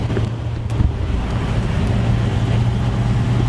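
A 1969 Ford F250 Ranger truck with a carburetion problem driving, heard as a steady low engine drone inside the cab, heavily buffeted by loud wind noise.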